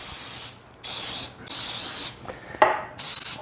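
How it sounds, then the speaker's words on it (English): Cooking spray aimed at a 9 by 5 baking pan: four close, loud hissing bursts of aerosol, each about half a second long with short gaps between, the third ending with a brief rattle of the can. "I've got my 9 by 5 pan here, and now I'm going to really spray it really good."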